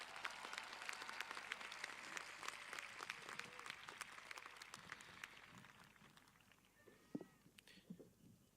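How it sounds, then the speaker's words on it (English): Applause after a student's speech at a high school graduation ceremony, a broad crowd clapping that fades out gradually, leaving scattered claps and a few faint sounds in a quieter hall. "Let's give Dylan another round of applause."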